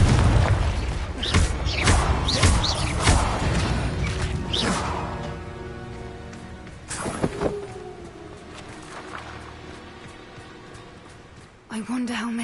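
Repeated Confringo fire-spell explosions in Hogwarts Legacy combat: a flurry of sharp blasts and bursts in the first few seconds, another heavy impact around the middle, then quieter rumbling, with voices speaking among the noise.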